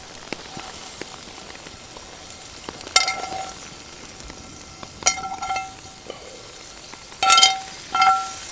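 Steak and mushrooms fry in a pan outdoors under a tarp shelter in the rain, a steady close sizzle punctuated by sharp metallic clinks of utensils against the pan, with no voices.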